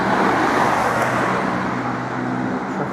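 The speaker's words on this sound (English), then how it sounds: "Traffic is atrocious." Heavy road traffic on a UK route near East Grinstead makes a loud, steady wash of engine and tyre noise, with a low humming vehicle drone running underneath and no speech.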